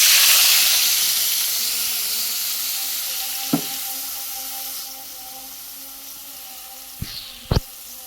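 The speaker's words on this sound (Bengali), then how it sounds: "এখন আমরা একটু নেড়ে দিলাম ভালোভাবে মশলাটা মিশিয়ে দিচ্ছি" Kalibaus fish frying in spice masala with a steady sizzle and hiss, a few sharp clinks of a spoon stirring near the middle and end.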